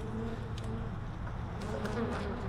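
Honeybees buzz steadily around a light, newly set-up hive late in the season, a continuous droning hum with individual bees passing close by.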